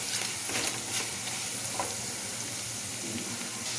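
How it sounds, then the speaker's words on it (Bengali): Dried red chillies and mustard seeds frying in oil for lemon rice, a steady close sizzle with light crackles and occasional stirring, no one talking. "একটু ভাজা ভাজা হয়ে গেছে"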